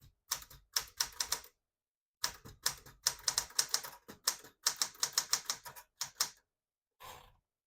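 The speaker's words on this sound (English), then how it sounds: "I'll type another sentence so you can see the font better." Bursts of sharp key strikes from a 1972 Smith-Corona Classic 12 manual portable typewriter come in uneven clusters separated by short silences, close and clear, with a final softer mechanical sound at the end.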